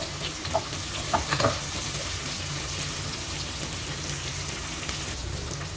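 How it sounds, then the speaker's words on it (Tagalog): Onions browning in a pan for chicken curry, a steady soft sizzle with a few scraping stirs early on, close and fairly quiet, with no talking. "Haluin din natin siya na mag-brown itong sibuyas."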